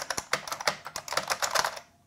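Fast typing on a compact Model M-style keyboard, a quick run of loud, clacky keystrokes in an uneven rhythm, close and alone, before stopping.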